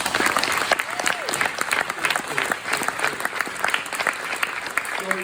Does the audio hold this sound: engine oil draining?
no